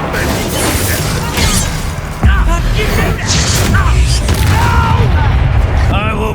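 Confringo fire spell explosions in the Hogwarts Legacy video game, a dense run of loud booming blasts and crackling impacts with a heavy thump near the middle, over busy game effects with a voice shouting in between.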